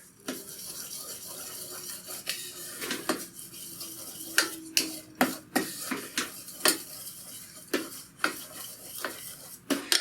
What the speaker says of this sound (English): I just want to mix that enough to dissolve that sugar a bit into the butter